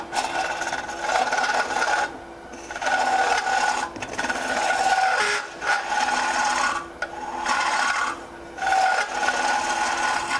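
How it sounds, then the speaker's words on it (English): Woodturning gouge cutting a small hollow form on a lathe, a continuous rasping scrape that surges and eases in repeated passes as shavings are pulled out, close and steady with no talking. "That's shavings. It's pulling shavings out of the way."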